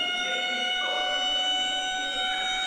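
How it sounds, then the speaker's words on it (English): A steady, sustained prison siren wail with layered tones, moderately loud and continuous throughout, with no pauses. "And then right after that, the siren went"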